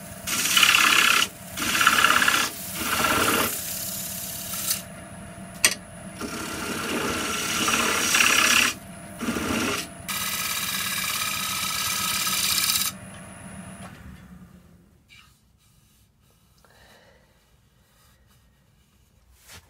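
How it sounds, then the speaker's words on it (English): A wood bowl being sanded on a lathe gives a loud, close rasping rub in bursts with short pauses, carrying a steady high whine, then drops to quiet room tone. "So I'm going to take that off, then we're going to sand this and get a decent finish on that."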